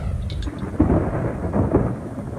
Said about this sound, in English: Thunder in the southwest part of the valley.